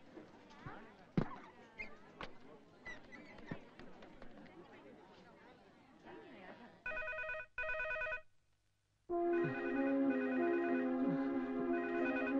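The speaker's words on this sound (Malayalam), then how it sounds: "ഞാനൊന്ന് ഫോൺ ചെയ്തോട്ടെ." Telephone ringing on a phone call, an electronic ring tone repeating in short bursts, then a longer ring, following footsteps and rustling in a room.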